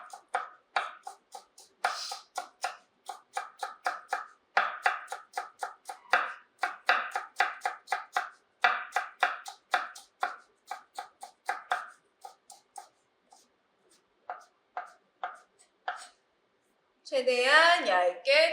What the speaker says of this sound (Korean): 최대한 얇게 채 썰어서